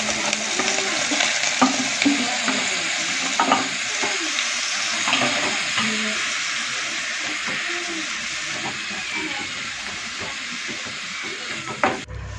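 Oil hisses and crackles in a pan as onions go into hot coconut oil, a close, steady sizzle broken by scattered pops and stirring clinks, ending with a sharp knock.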